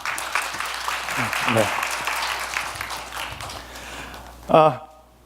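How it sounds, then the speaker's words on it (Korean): An audience at a tech conference session applauds to welcome a speaker to the stage, a sustained wash of clapping with voices talking over it before it fades. "여러분 큰 박수로 불러주십시오."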